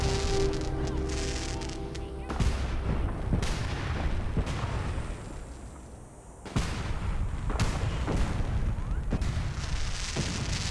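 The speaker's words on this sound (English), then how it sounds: "Oh, we get a fireworks show." Small fireworks going off in Fallout 4: a series of sharp booming bursts at irregular intervals, with a loud crackle cluster, a brief lull, then more bangs over a rumbling game background.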